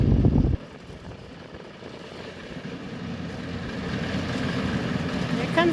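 A tractor pulling a hay swather drones steadily at a distance, its low rumble slowly building in loudness after an abrupt drop at the start.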